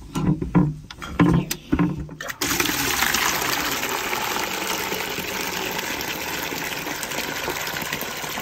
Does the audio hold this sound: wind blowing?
no